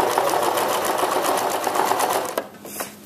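A sewing machine runs steadily, stitching down the seam of an exposed garment zipper with a fast, even mechanical whir up close, then slows and stops near the end with a few soft clicks.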